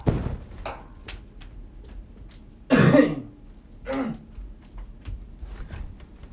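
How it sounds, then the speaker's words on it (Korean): A muffled cough sounds once, fairly close, amid quiet room tone with a few faint knocks and shuffles around it. "기침 한 번만 하고 올게요."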